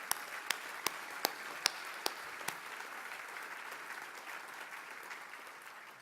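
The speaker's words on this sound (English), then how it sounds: "Let's give everybody a big round of applause who's here today," Applause fills the room at a 2018 annual meeting: a few sharp, distinct claps ring out near the start over a soft bed of clapping, which then settles into a steady, moderately quiet patter that gradually fades.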